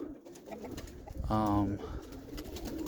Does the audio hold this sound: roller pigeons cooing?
yes